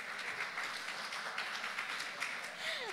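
Audience applause at an Indonesian National Film Day gathering, a soft, fairly distant patter of many hands clapping steadily for a few seconds, with faint room murmur underneath.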